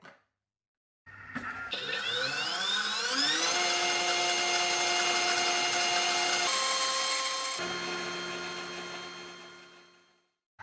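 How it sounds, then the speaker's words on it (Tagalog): A blender whirs steadily for about nine seconds while mixing homemade mayonnaise ingredients with mustard and cold water. The motor pitch climbs early on, holds high and then dips slightly before the blender cuts off. No voices are heard. "i-blend natin sila all together"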